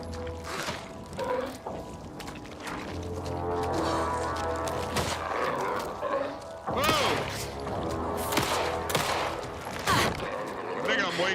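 Gunshots in the horror video game Alan Wake 2, several sharp loud cracks scattered among thuds and rumbling effects, with someone talking in between.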